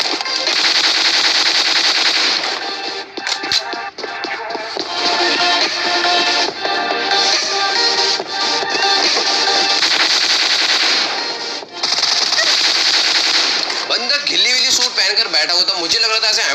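Suppressed UMP submachine gun fire in a battle royale video game, heard as long, loud, continuous rapid bursts with brief gaps and a voice running underneath.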